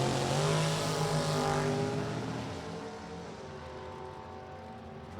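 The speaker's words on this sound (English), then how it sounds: "Dragster moving hard, trying to catch that Mustang" A dragster chases a Ford-powered '66 Mustang down a drag strip, engines roaring loud and close at first, then the sound eases and fades into a steady distant drone.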